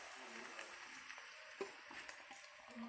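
Chicken meat frying in a pan with half-fried onions for an Assamese chicken curry, a soft steady sizzle with a few light clinks and stirring sounds, fairly quiet throughout.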